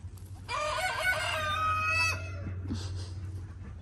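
A rooster on a family farm lets out one loud, close crow, a harsh stretched call of about a second and a half that trails into faint clucking and rustling.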